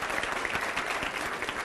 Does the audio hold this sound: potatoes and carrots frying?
no